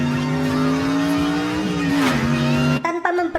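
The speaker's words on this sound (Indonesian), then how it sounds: "Dia langsung memacu mobilnya hingga sampai di sebuah kota." A car engine revving hard as it speeds off, a loud close rising roar with shifting pitch and a tire squeal, ending abruptly in a short burst of clatter.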